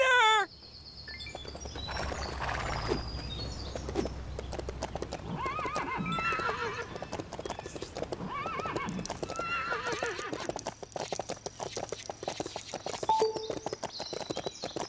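Hooves clip-clop in a quick, steady rhythm in LEGO City Undercover on PS4. A horse whinnies near the start, and a busy game soundtrack plays underneath.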